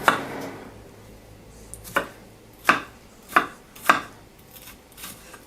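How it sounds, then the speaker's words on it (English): A knife dices a yellow pepper on a cutting board, giving sharp, evenly spaced chops about one every half second, close and clear, followed by a quieter knock. "Now, I recommend dicing these up really fine so that you don't have big chunks of it,"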